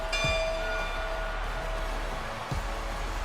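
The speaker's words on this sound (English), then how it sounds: "Ringing the bell." A bell rings in the football video game Madden 26, a sustained metallic tone that fades out, with a second dull strike about two seconds later over a low steady crowd rumble.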